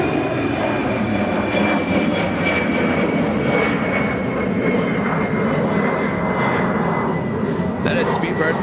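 A British Airways Boeing 777-200ER bound for London Heathrow runs its engines at Chicago O'Hare Airport, a steady, loud jet roar with a high whine throughout, with people talking over it.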